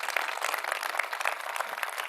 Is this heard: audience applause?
yes